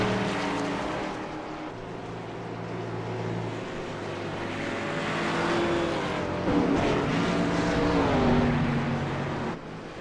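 Race cars run laps on an oval track around lap 94 of a 150-lap event, a continuous whining engine drone that rises and falls in pitch as cars pass, with no talking.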